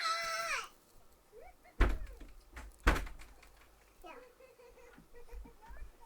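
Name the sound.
someone banging on a door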